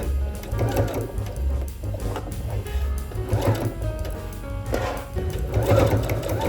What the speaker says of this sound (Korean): 저는 선을 그려놨기 때문에 평노루발로 조심조심 선 따라 봉제해줄게요